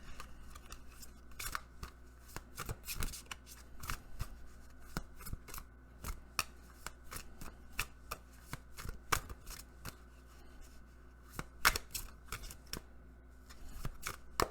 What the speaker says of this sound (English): the cards are like, can we shuffle first?